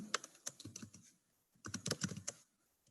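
Quick bursts of typing on a computer keyboard, close and fairly quiet, with two clusters of rapid key clicks separated by a brief pause and no talking.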